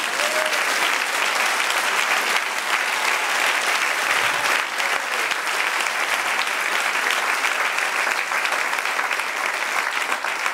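A church congregation clapping together in praise, dense sustained applause filling the room at close range for the whole stretch, with no voice rising above it.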